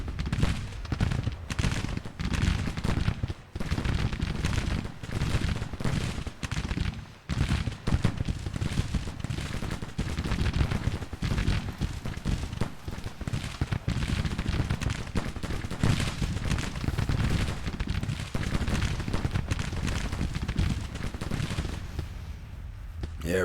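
Sustained gunfire and artillery from a Civil War battle in the strategy game GTCW, dense overlapping musket volleys and cannon booms rolling continuously for over twenty seconds with only brief dips.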